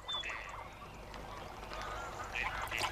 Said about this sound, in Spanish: El pato real es el origen de casi todos los patos domésticos, probablemente el primero en ser domesticado por el hombre.